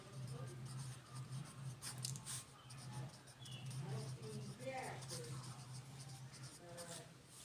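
Chalk or marker scratching and tapping on a board while a maths problem is worked out, faint intermittent strokes heard under a steady voice talking throughout.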